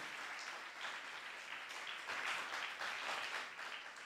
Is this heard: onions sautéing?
no